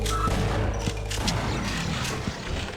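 Gunfire in the video game Half-Life aimed at a turret, a rapid series of dull shots and thumps mixed with mechanical clatter, dense and moderately loud.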